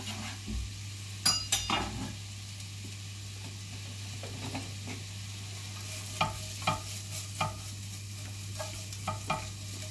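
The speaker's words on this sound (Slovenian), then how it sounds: "Damo pražiti čebulo" Chopped onion frying in oil in a pan, a soft continuous sizzle under a low steady hum, broken by several sharp scrapes and clinks of a utensil stirring, close by with no voices.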